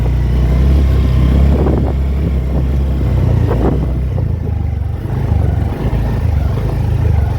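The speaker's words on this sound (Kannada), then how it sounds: "ಸೌಂಡ್ ಈ ಥರ ಬರೋಕತ್ತೈತಿ, ಮಸ್ತ್ ಐತಿ ಸೌಂಡ್" A new Honda Dio 125 scooter engine runs with a loud, close, steady low drone and even pulsing hum that holds throughout, with no talking over it.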